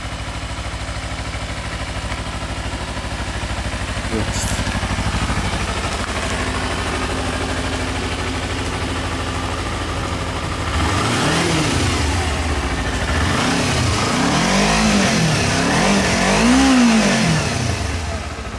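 A 2008 Kawasaki Ninja 250R motorcycle idles evenly, then revs in a few quick rising and falling bursts toward the end, close and loud with no speech.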